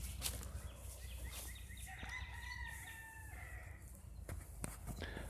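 Chickens and hens at a farm, with a rooster crowing clearly across the middle and scattered clucks and rustles around it, moderately distant against steady outdoor background noise.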